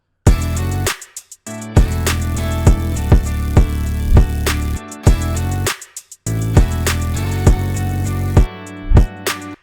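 Hyperpop beat with a chopped melody and bitcrushed, gritty synth tones over punchy drum hits, playing loud with abrupt stop-start gaps where the chops cut the sound.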